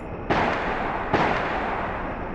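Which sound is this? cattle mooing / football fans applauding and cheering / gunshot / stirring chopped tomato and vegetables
gunshot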